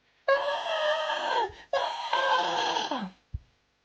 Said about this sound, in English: You can literally hear the turtle screaming.